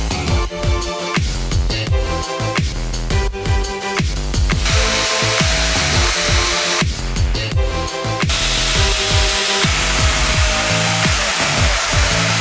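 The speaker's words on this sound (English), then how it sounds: "I'm gonna use a 1mm cut-off disc here on the angle grinder, and we're just gonna shave in some hash marks" An angle grinder fitted with a 1mm cut-off disc scribes hash marks into a metal war hammer head, whining loudly and continuously with repeated bursts of rising and falling pitch as the disc cuts in and lifts off.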